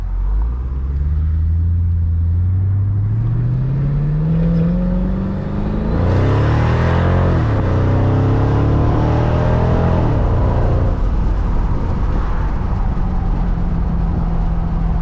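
A supercharged 2005 Mercedes CL55 AMG with the supercharger clutch engaging pulls hard from low revs, its engine note climbing steadily and loudly, shifting, then roaring up again before easing off, heard from inside the car.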